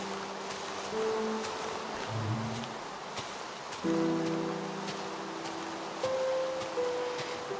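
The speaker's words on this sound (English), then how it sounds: "This rainstorm isn't dangerous, is it?" Steady rain hisses down in the Minecraft Bedrock video game, a continuous wash of noise beneath soft, sustained musical tones and occasional faint ticks.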